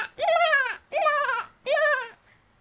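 A goat bleats three times in a steady rhythm, each call long, wavering and nasal, close and loud with short pauses between them.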